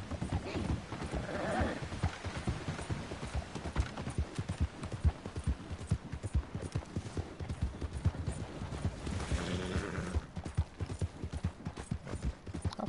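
A video game horse trots with a steady clip-clop of hooves and gives repeated whinnies and neighs, continuing throughout at moderate loudness.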